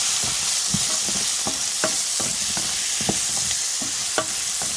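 Red beans with Jamaican curry powder are stirred in a pot, giving a continuous loud sizzle with a brisk series of close scraping strokes.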